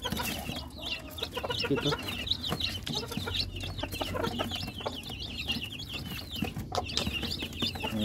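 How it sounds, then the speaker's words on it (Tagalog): Rhode Island Red chicks peep and cheep continuously in a busy brooder chorus close by, with some soft clucking and a brief spoken word mixed in. "Yan yung sisiyo ng Rhode Island Red natin."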